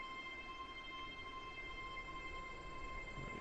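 A Class 801 express train of five coaches running in the game SCR, a faint steady rolling rumble with sustained tonal whine lines, continuous and even throughout.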